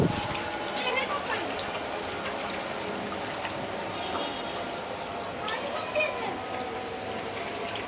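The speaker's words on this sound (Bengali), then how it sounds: "ভালোই বৃষ্টি" Heavy rain pours down with water collecting on the ground, a dense, continuous hiss and splash that stays steady, with faint voices in the background.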